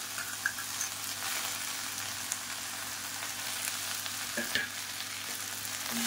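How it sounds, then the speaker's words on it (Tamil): Mint, coriander and curry leaves sauté in a pan with a continuous, moderate sizzle and occasional light clicks of stirring, no voices. "இதெல்லாம் நல்லா வதக்கி விட்டுக்கலாம்"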